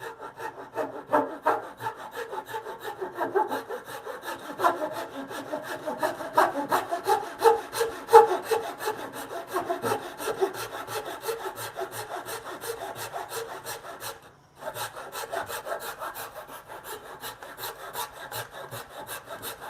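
A handsaw cuts wood for a bunk bed ladder in a home workshop, with steady rhythmic rasping strokes. The strokes are close and fairly loud, with a brief pause before the sawing resumes.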